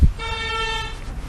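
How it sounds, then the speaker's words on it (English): A car horn blares in a single sustained honk on a normal two-way road, loud and close, over a background of passing traffic. "I don't know why cars are beeping, but they are"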